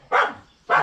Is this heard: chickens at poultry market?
no